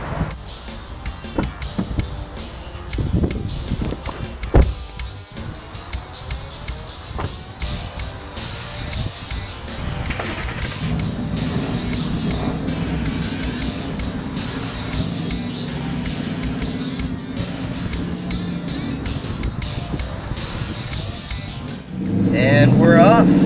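A 2013 Ford Mustang Boss 302 pulls away and drives, its low engine rumble building and holding steady under occasional talk, with a louder surge near the end.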